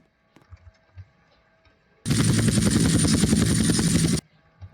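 A loud, steady helicopter rotor roar from a video game bursts in abruptly, runs for about two seconds with a dense chopping texture, then cuts off, with faint scattered game sounds before and after.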